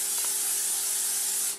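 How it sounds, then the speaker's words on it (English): Cooking spray hisses onto a cookie sheet in one continuous close burst that cuts off at the end. "For this you're going to need to spray a cookie sheet."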